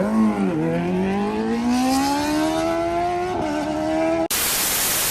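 A sportbike engine revs at a group meet of Yamaha R1M, BMW S1000RR and Honda CBR1000RR-R SP superbikes, its pitch climbing in a smooth, sustained wail that holds close and loud before cutting off abruptly into hiss.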